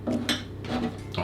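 Mixed nuts tipped into a mixing bowl for plant-based fruit and nut muffins, giving a few quick clattering rattles against the bowl, close and fairly loud with no talking.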